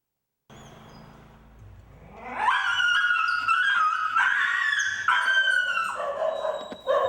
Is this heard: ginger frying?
no